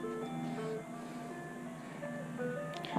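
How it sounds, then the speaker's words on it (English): An ice cream truck's tinkling jingle plays clearly, a looping melody of bright chime notes carrying through the air. "Ice cream truck."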